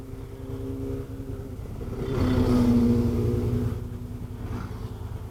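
A Kymco AK550 maxi-scooter motorcycle rides through Manila traffic: a low, steady engine drone with road rumble swells briefly louder mid-ride, then eases back to a moderate cruising hum.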